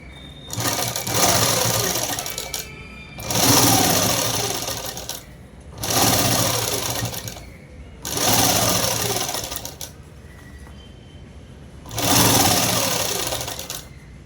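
A shirt is stitched on a close sewing machine in five regular bursts of roughly two seconds each, with short quiet pauses between them.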